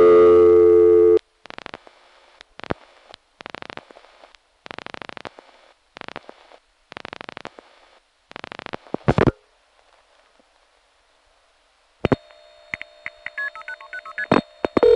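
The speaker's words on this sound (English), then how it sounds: "number 2 ESS makes different clicks from number 1 ESS, at least when you call working numbers" Telephone switching clicks from a No. 2 ESS office in Spring Valley while calling working numbers: a burst of dialing tones, then a rhythmic series of relay click bursts, a short pause, and call-progress tones near the end.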